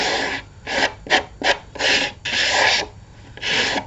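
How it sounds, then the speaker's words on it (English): A cut edge is sanded by hand in short, rhythmic rasping strokes, about eight close, loud scrapes with brief pauses between them and no talk. "maybe just give it a little sand down"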